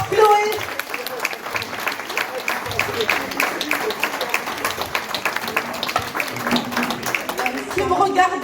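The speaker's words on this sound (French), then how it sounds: "On applaudit fort Chloé." Audience applause for a worker receiving a medal at a French workplace medal ceremony, dense steady clapping filling the room throughout, with a voice speaking over it.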